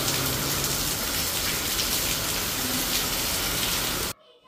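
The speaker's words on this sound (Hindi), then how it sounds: "बाहर बहुत तेज़ बारिश हो रही है" Heavy rain pours steadily outside, a dense, loud, unbroken hiss that cuts off abruptly near the end.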